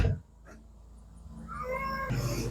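A cat meows once, rising and drawn out, fairly close in a workshop where an air compressor is about to be started for leakdown and compression testing.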